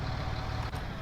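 A tractor or farm vehicle engine idles in a farming simulator game, a steady low rumbling drone for about a second, close and moderately loud with no talk.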